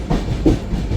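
A moving passenger train rumbles steadily on its rails in India, a close, continuous low roar and rattle with faint hiss heard from on board.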